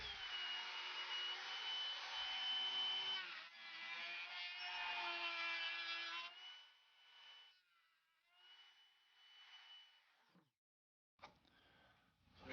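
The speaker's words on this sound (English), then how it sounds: "Now I'm just gonna follow that with the router" A router follows a template along the wood of a 100-year-old baby cradle under repair, giving a loud, steady high whine that tapers and cuts out, then briefly starts again.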